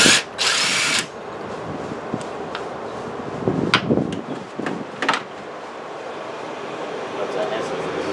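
A power tool whirs loudly for about a second while a spark plug is removed from a Nissan Sentra engine with a misfire, followed by clinks, taps and handling noises in a garage, with a person talking.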